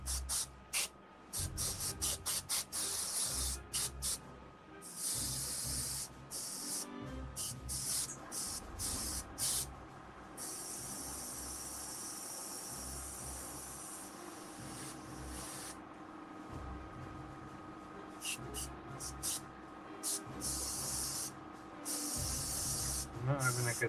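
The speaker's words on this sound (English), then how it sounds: "I'm not having a good time with the airbrush today" An airbrush spraying primer onto an action figure gives bursts of sharp hiss, some short and choppy, some longer and steadier, with quiet pauses and soft handling noise between sprays.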